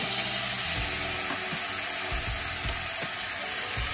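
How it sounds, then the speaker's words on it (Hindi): Cumin seeds and tomato sizzle in hot oil for pav bhaji, a continuous close crackling fry with small pops and occasional soft stirring, no voices present. "जीरा तड़क रहा है, लाल हो गया है, गैस को सिम कर दिया।"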